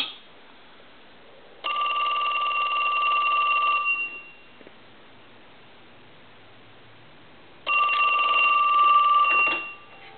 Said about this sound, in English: So let's go ahead and ring the telephone.